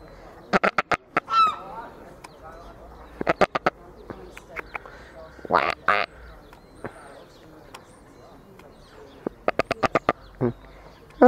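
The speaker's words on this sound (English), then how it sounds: "That's a seagull." Several sharp, honking seagull calls ring out in short clusters outdoors at a railway station, repeating every few seconds, with a person talking between them.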